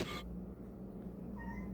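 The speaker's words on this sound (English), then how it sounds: "sorry if you can hear my cat meowing." A pet cat meowing indoors, faint and somewhat distant, with a short brighter cry near the start and softer tonal calls later over a steady low room hum.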